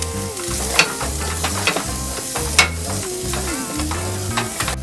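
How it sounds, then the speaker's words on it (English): Onions sizzling in a hot pan with ginger, stirred repeatedly so a spatula scrapes and knocks against the pan in a loose rhythm over continuous close frying, with no voices. "Stir it, and add onions. Mix until onions get brown."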